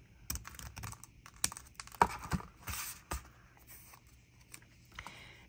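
Scissors snip straight across a paper fringe piece for a craft butterfly, a run of short crisp cuts and rustles up close, with no talking.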